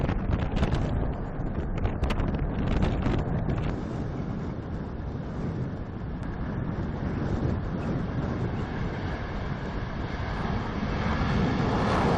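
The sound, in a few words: airplane built in 1985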